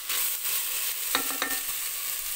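Food fries inside a multicooker while potatoes with vegetables cook, a constant hissing sizzle with a couple of brief spoon clicks and no voices.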